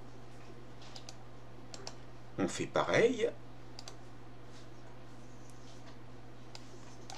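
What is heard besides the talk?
computer keyboard keys pressed, Delete key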